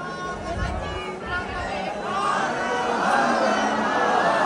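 A dense crowd murmurs and chatters in the corridor of Kashi Vishwanath temple in Varanasi, a steady babble of many voices close by, with someone talking over it.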